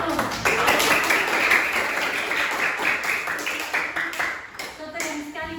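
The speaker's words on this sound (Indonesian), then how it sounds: "pada tepuk tangan untuk Mustaqim dulu" A junior high school class claps for a classmate named Mustaqim after a physics lesson activity, a brisk burst of many hands that starts strong and gradually thins and fades.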